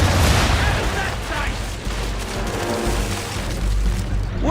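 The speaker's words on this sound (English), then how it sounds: "Fire broadside!" A sailing warship's broadside of cannons fires in Assassin's Creed 3, a loud, dense barrage of overlapping booms and rumbling blasts that fills the whole stretch without a break.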